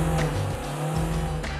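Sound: car accelerating with tires squealing

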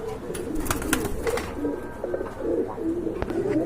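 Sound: pigeons cooing

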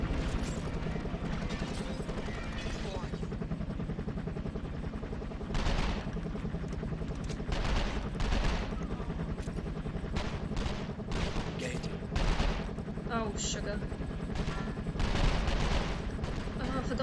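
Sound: gunfire in the video game 24: The Game

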